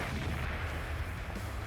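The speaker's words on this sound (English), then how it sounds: "Where did such a powerful explosion in my house come from?" A game explosion in Minecraft, set off by opening a chest in a house, bursts out with heavy rumbling blasts that stay dense and loud without any voices.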